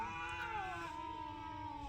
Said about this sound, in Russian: дерется с каким-то чужим котом на нашей территории